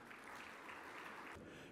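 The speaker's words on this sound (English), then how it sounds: "Let's give another round of applause" Applause from an awards-gala audience: steady clapping, quiet and distant, that cuts off abruptly near the end.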